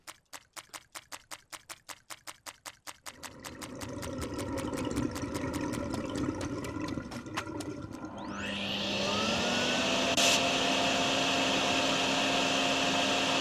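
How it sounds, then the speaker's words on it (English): A game vacuum cleaner in the drain-cleaning simulator DrainSim, preceded by rapid rhythmic clicking, then a steady rushing drone that swells as the motor spins up around eight seconds and holds loud and continuous to the end. "So let's grab our vacuum and then we can just get the last little bit of it."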